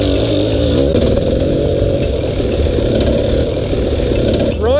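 An enduro motorcycle rides over rocky terrain with a loud, continuous engine drone close by, the revs wavering slightly as it climbs.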